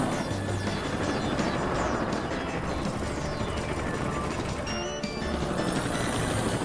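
Animated super helicopter flying in a kids' app game, a dense continuous rotor drone with cartoonish mechanical clatter and a brief crash-like burst midway, loud and steady throughout.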